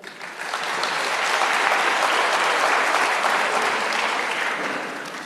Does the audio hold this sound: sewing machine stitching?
no